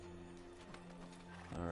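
A horse's hooves clip-clop in quick, light steps in the video game Assassin's Creed II, faint beneath the game's music and sound, with a brief whinny-like sound near the end.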